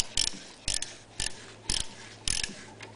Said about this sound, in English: take off the red, which is your positive terminal. So I'm going to do the same thing. Unscrew it.